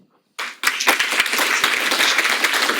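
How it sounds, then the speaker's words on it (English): Audience applause for a round of lightning talk speakers, starting abruptly after a brief quiet moment and building into steady, dense clapping from a sizable crowd that continues evenly to the end. "let's give one more round of applause for all 12 of the Lightning Talk speakers"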